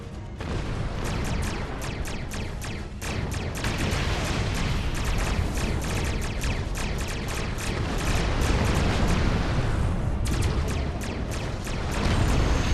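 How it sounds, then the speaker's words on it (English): Ships blowing up in the space combat of Star Trek Online: a dense, continuous barrage of booming explosions and sharp bursts, loud and rumbling, swelling again near the end. "Explosions cause damage. Put some distance between yourself and exploding ships."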